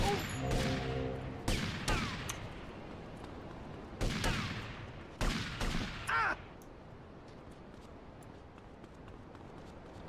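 Gunfire from Haitian gang members in the game GTA Vice City, a handful of sharp, separate shots and short bursts cracking over steady background ambience, moderately loud, then fading to quiet noise.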